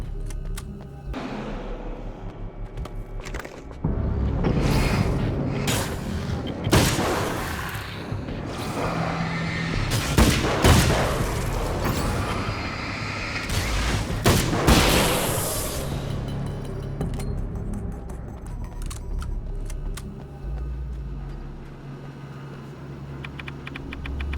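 Rifle fire in the video game Alan Wake's American Nightmare, with several loud, sharp shots and booming impacts in the middle, mixed with clicks and ongoing game noise.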